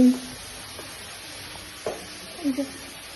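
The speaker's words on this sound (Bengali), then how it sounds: "আমার মা এখন রান্না করছে" Faint, low sizzling of food in a pan, with a few soft clinks of a utensil scattered through it.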